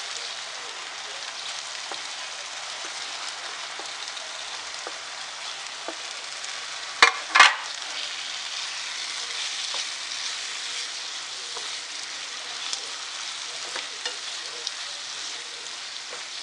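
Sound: goat brain frying in oil for biryani

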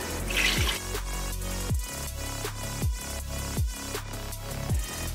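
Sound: water poured into a pot to refill bone broth

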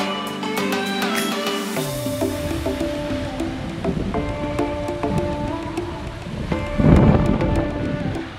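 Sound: rain and thunder at sea on a sailboat

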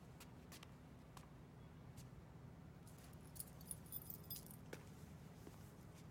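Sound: car keys jangling

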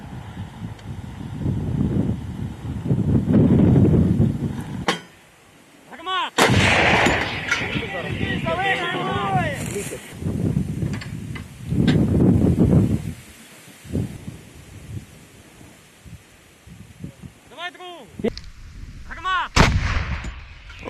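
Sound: howitzer artillery gun firing

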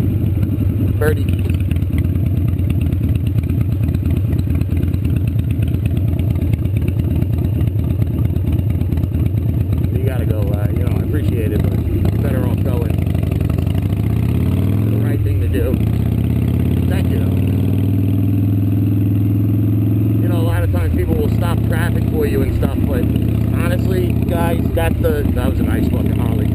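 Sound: Harley motorcycle engine

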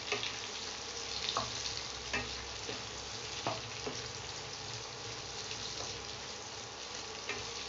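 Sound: stirring frying onions in a pan

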